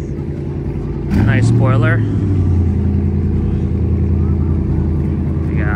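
A Ford Mustang fitted with an AWE aftermarket exhaust rumbles at close range with a deep, steady engine drone and a brief louder surge early on. People talk over the sound of the car.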